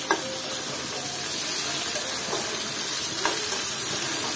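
Shrimp frying with onions in a pan for a bitter gourd and potato curry, giving a steady close sizzle and hiss with a few soft stirring scrapes.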